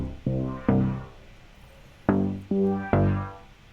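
A bass synth in Ableton Live plays through an auto filter, five short plucked notes whose tone sweeps and opens, in two groups separated by a pause, moderately loud with no talking.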